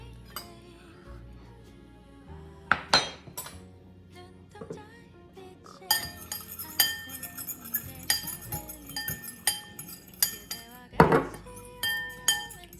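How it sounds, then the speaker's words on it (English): A whisk clinks rapidly against a glass bowl while avocado oil is worked into a homemade salad dressing, a busy, bright rattle of taps and chinks that grows denser and steadier in the second half. "So now I have to like whisk it longer so that it'll mix in."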